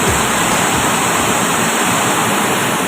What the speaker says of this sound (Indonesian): ada air terjun Lembah Anai